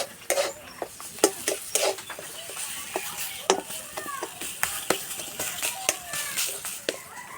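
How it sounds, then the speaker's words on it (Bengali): Boiled potatoes mashed with a metal spatula in a pan, with repeated sharp scraping and clinking strokes at an uneven, brisk rhythm, close and fairly loud, with faint sizzling underneath. "আলুগুলো খুন্তি করে এইভাবে একটু ঘেটে নেব"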